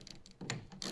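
A half-inch ratchet turns a clamp on a Tonno Pro Lo Roll soft roll-up tonneau cover fitted to a 2019 Chevy Silverado, making a few quick, close clicking pawl bursts with short gaps between them.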